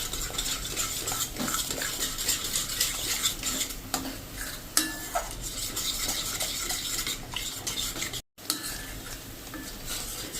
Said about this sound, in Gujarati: અને હવે આમાં આપણે 3 થી 4 ટેબલ સ્પૂન એકદમ ફ્રેશ દહીં લીધું છે, એ નાખી દેશું. અને એને આપણે સ્લો ફ્લેમ ઉપર આ રીતે મિક્સ કરી લેશું.